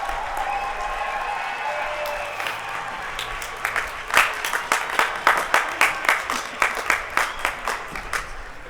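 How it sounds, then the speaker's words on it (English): A crowd at a university commencement ceremony applauds steadily, a broad wash of clapping that gives way to a few louder, rhythmic claps near the end. "give them a round of applause for all that they have done to help you get to this day"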